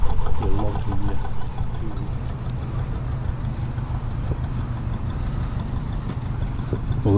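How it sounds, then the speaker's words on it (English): A canal fuel boat's low engine rumble drones steadily as it passes, with wind noise over the microphone, the motor holding a constant throb the whole time. "Well, there's a fuel boat going successfully through."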